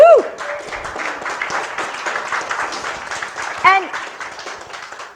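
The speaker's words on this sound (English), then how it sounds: "thank you for clapping for them" An audience at a church panel event clapping for three educators, a dense patter of many hands with whoops and cheers, while a voice speaks over it.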